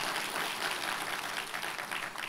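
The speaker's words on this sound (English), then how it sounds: "We give God a clap offering today too." A church congregation claps together as an offering of praise, giving dense, continuous applause that stays loud and even from start to finish.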